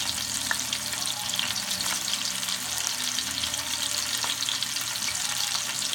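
A pot roast searing to golden brown in a hot pan, a dense steady sizzle with a few faint clicks and crackles, close and even in loudness throughout, no voices.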